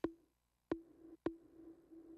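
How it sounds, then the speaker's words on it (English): Synth sample built from a square wave quickly turning into a sine wave with reverb: three sharp clicky attacks, each settling into a steady low tone that rings on, spaced about half a second apart. "You could just make that with like a square wave turning into a sine wave really fast."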